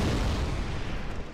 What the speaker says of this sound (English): Can I throw a bunch of fire bombs at you?